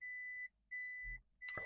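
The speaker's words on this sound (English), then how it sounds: "And then that annoying beep, which I just don't understand why they've done it" Three spaced electronic beeps from a 2007 Toyota Prius in reverse gear, each a steady tone lasting about half a second, followed by a brief thud and a rattle at the end.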